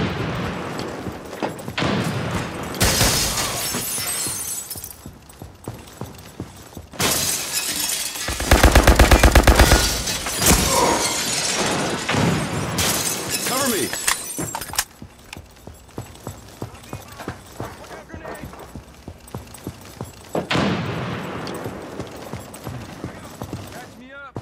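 A frag grenade explodes in a shooter video game, a loud blast midway among repeated bursts of gunfire and mechanical clatter, with a voice talking over the action.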